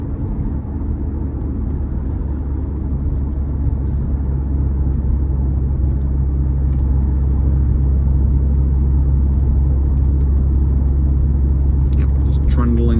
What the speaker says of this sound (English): just trundling along at 1300 RPM